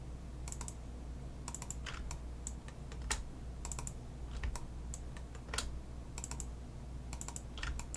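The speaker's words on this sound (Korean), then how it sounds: "나머지 부분은 Shift 더블 클릭을 해서 Shift 더블 클릭, Shift 더블 클릭 이런 식으로 한꺼번에 외곽 쪽 엣지 라인만 정확하게 선택을 해줍니다." Computer keyboard keys and mouse clicks in Autodesk Maya 2019 while shift-double-clicking to select outer edge loops, a steady scatter of light, close taps and clicks over a low background hum, no voices.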